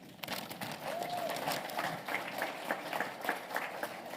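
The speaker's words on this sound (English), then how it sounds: "Give Stacy a big round of applause." Applause rises from the audience at a mind-magic stage show during a brain summit, a fairly faint, steady spread of clapping heard from a distance, with a brief vocal sound near the start.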